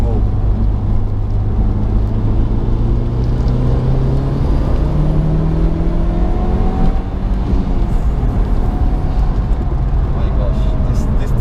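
A Mitsubishi Evo 5 accelerating hard, a loud in-cabin engine drone climbing steadily in pitch through the gears, with road roar underneath and a person talking over it.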